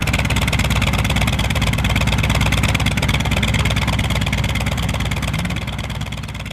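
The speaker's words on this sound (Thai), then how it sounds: "เครื่องยนต์จากที 28 ทั้ง 16 เครื่อง ถูกสตาร์ทขึ้นด้วยเวลาเกือบชั่วพริบตาเดียวกัน" Sixteen T-28 military trainer aircraft piston engines starting and running together, a dense, steady, loud roar with a deep throbbing rumble that holds constant and eases slightly at the end.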